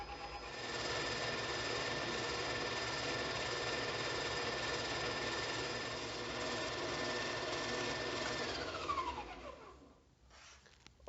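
A food processor runs steadily at high speed, blending butter into flour for pâte brisée shortcrust pastry, then spins down and stops near the end; the motor whir is loud, close and continuous, with no talking.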